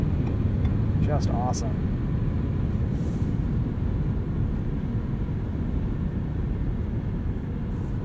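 A 2021 Ford F-150 PowerBoost hybrid pickup pulling hard at around 70 mph on the highway, a constant loud low drone of engine and road roar inside the cab, with someone speaking briefly over it.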